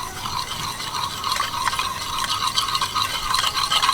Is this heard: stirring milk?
yes